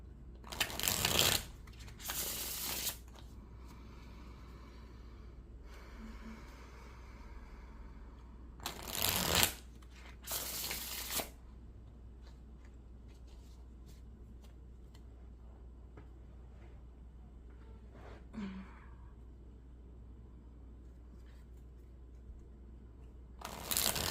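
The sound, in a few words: shuffling tarot cards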